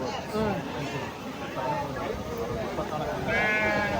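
Sheep and goats bleat repeatedly at a busy livestock market in Ranebennur, their calls rising over a steady background of crowd chatter, with a louder, clearer bleat near the end.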